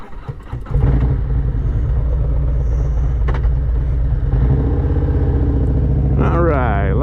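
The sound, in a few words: Harley-Davidson motorcycle with T-bars being ridden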